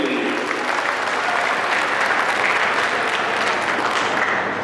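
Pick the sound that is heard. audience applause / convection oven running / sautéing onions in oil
audience applause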